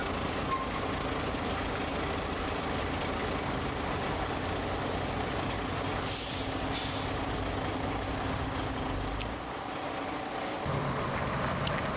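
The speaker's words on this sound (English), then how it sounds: "Now a Volvo passing." A Volvo lorry from M&L Transport passing on a vintage wagon run, a broad, continuous rumble of engine and road noise with a brief hiss-like burst midway, no voices.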